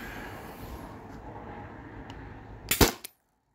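A single sharp, loud shot from a Byrna TCR launcher running a modded 20 oz CO2 tank cracks near the end after faint background noise, followed by a brief echo and silence.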